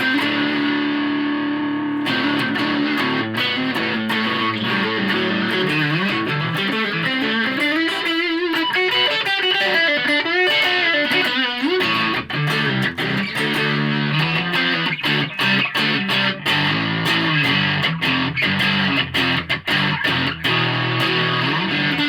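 Electric guitar played through a JHS 3 Series distortion pedal with the distortion turned up, a dense, loud, sustained crunch of chords and riffs running continuously with no talking.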